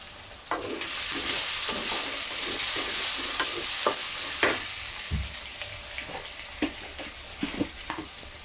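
Bay leaves dropped into hot oil with corn in a pan: a soft continuous sizzle, several light clicks and taps of a utensil, and one dull knock midway, heard up close with no speech.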